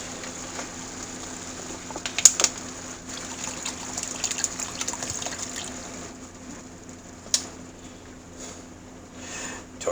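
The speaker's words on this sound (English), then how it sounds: "And I put in the water." Water is poured into a taco skillet of beef and salsa, giving a soft, faint trickle with a few sharper splashes and no voices.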